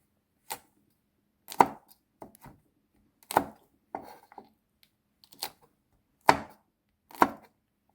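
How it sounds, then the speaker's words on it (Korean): A knife cuts seeded red chili pepper into thick strips on a cutting board, giving about eight distinct sharp chops at uneven intervals, some doubled, with quiet gaps between them. "홍고추는 씨를 빼고 3cm 정도로 굵은 채로 썰어요"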